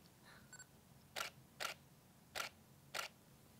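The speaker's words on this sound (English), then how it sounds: "That really soft, soft shutter click." A Nikon D810 camera fires a few soft, quiet shutter clicks, two faint ones and then four evenly spaced clicks, close up against a low background hum.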